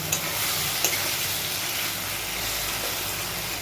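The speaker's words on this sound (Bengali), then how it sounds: "এবারে এটাকে ভালো করে কষাতে হবে, সুন্দর করে কষিয়ে।" Fish spice masala for a bhetki bone dish sautés in a pan with a continuous hissing sizzle, nearby and fairly loud, broken by a couple of faint utensil clicks.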